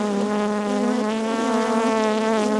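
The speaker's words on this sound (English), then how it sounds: "The flying bees will fly out after I shake them." A close, dense buzzing of many honeybees rises steadily and unbroken as they are shaken off a brood frame of nurse bees during a hive inspection, with no voices heard.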